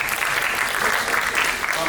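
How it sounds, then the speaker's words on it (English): A crowd applauds warmly, with continuous, dense clapping at a steady, fairly loud level from start to end. "May we get a warm round of applause for Ms. Cheuk Ting Ho?"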